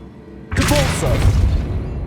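The Depulso spell cast in Hogwarts Legacy: a sudden heavy whooshing boom with a rumbling low tail, loud and close, lasting under two seconds.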